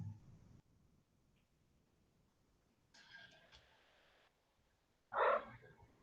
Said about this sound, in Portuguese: É assim que ele mia.